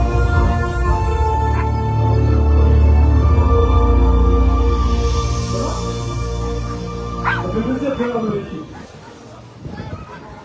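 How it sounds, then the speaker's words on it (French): Young sled dogs yelp and bark at the start line of a stage of La Grande Odyssée sled-dog race at Avoriaz, a continuous excited chorus under loud commentary and crowd noise. "C'est ces jeunes chiens."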